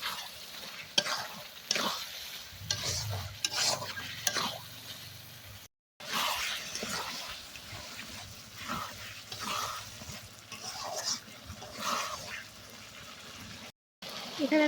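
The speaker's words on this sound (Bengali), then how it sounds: "এবার আমি এখানে গোশতটা অ্যাড করে দেব। খুব সুন্দরভাবে কষিয়ে নেব।" Meat stir-fried in hot oil in a pan while making haleem, a steady crackling sizzle broken by scraping stirs, with two brief silent breaks and faint background voices.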